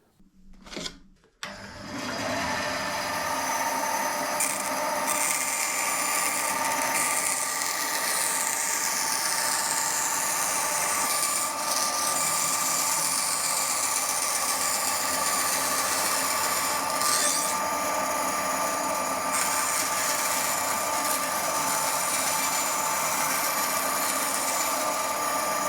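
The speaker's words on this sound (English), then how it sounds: "So we'll get this to the bandsaw very quickly, cut it out" A bandsaw cuts out an MDF template for a thinline bass neck pocket, a steady loud whine of blade and motor running continuously after a brief knock at the start, with no talk.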